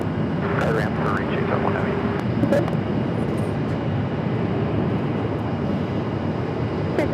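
A Boeing KC-135 tanker aircraft at Phoenix Sky Harbor airport gives off a steady, broad jet roar that holds without a break, with radio chatter and talk over it.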